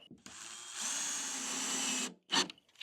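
A power drill drives a screw into a board on an RV bed frame during a bed-lift install, a steady whirring burst of about a second close by, with brief knocks before and after.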